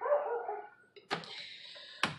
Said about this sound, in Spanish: Escucha para allá los perros.